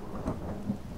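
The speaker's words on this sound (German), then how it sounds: "Es regnet" Rain falls with a low rumble of thunder in the survival video game The Forest. The stormy ambience is brief and steady, with no voices over it.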